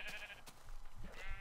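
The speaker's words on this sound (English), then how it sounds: "That sheep just walked out of nowhere." Sheep bleating in the Minecraft video game, a couple of short nasal bleats with a steady pitch, one near the start and another toward the end, over a low background rumble.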